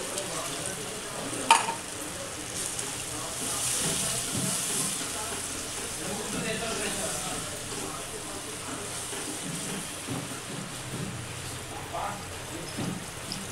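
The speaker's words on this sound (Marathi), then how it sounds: "आता याच्यात थोडंसं हे पाणी घेऊन टाकते." Water is poured onto well-roasted masala in a pan while cooking a Maharashtrian shev tomato curry. A steady, moderately loud hissing sizzle with scattered pops runs throughout, with a faint voice now and then.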